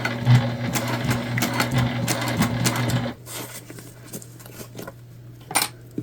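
A sewing machine runs steadily for about three seconds, top stitching a tote bag with a dense, rapid mechanical whir and clatter, then stops, leaving a quieter room with a few faint clicks and a brief knock near the end.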